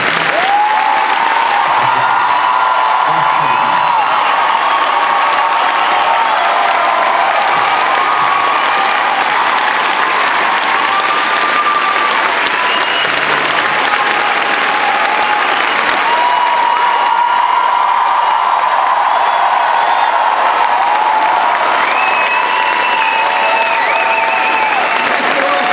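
Sustained, steady applause from a large audience at a Firefly 10th anniversary panel fills the whole stretch, loud and even, with faint cheers mixed in.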